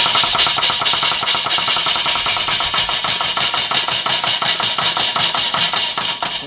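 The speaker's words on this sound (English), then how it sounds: "first thing I'm going to do is just turn it on and get the pump primed." An air-powered pump on a DIY aircrete foam generator primes with a loud, rapid, steady pneumatic chugging, close and continuous with a hissing air wash, no talking.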